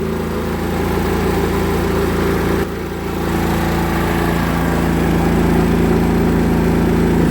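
A KS 4000iEG S dual-fuel generator runs loud and close with a steady mechanical drone, its engine note dipping briefly once before settling back to an even hum.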